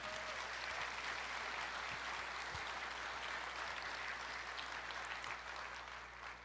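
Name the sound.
congregation applauding in church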